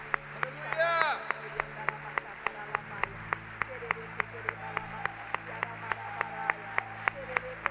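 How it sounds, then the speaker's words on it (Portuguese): A church congregation claps in praise to God, steady rhythmic handclaps at a regular beat running throughout, with a brief burst of voices near the start and organ-like tones lingering underneath. "Dê mais forte esse aplauso"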